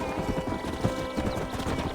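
Horse hooves clip-clop steadily in the Red Dead Redemption video game as a horse rides along, a continuous rhythmic trotting over a dense bed of background noise, with no voices.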